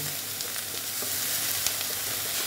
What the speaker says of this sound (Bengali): দেখো মোটামুটি আমার এটা ভাজা হয়ে যাচ্ছে